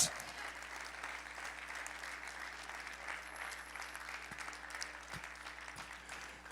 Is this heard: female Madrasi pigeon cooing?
no